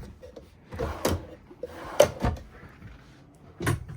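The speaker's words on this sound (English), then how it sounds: "Got your drawers that come out." Kitchen drawers in a 2023 Coachmen Leprechaun 230FS RV sliding open and shut, a series of short, close clunks and rattles with quiet gaps between them.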